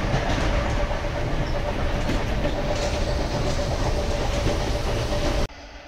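Electric commuter train rolling along the rails, a steady loud rumble with rhythmic clickety-clack from the wheels and a faint tonal hum, continuous until it cuts off abruptly near the end.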